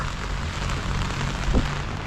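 Steady rain falls outdoors in Paris during a stormy day, a dense continuous hiss and patter that stays even and fills the whole moment with no voices.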